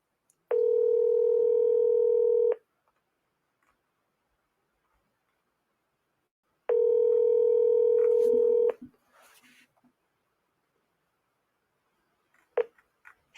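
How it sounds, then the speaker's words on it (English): An outgoing telephone call sounds two long, steady electronic tones about two seconds each, separated by a gap of silence, followed by faint clicks and small handling noises. No one speaks. "let's get Nick the Kid on the phone"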